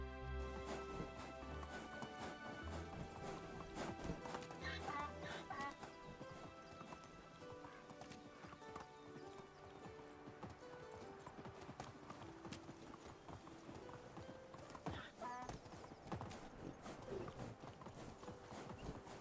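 Horse hooves clip-clop in a steady, even rhythm throughout while riding in the medieval life-sim game Medieval Dynasty, close and continuous, with faint creaking tack and occasional snorts.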